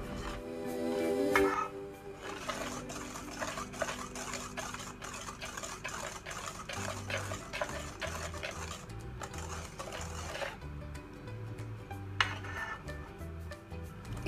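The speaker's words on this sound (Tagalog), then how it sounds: "Mix lang po natin mabuti para po matunaw ng mabuti yung ating white sugar." Egg, butter and white sugar are mixed in a bowl with a quick, regular clinking and scraping rhythm, close and fairly quiet, with no talking.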